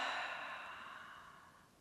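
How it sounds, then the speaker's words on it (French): A soft, breathy exhalation through the mouth during a relaxing breathing exercise, fading gently over under two seconds, quiet and close with nothing else heard. "Avec la bouche, expire."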